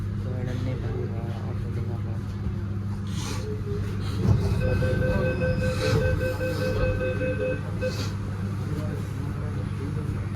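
Steady low rumble of a train rolling along the rails in Delhi, with faint squeals and rattles rising midway, voices murmuring underneath throughout.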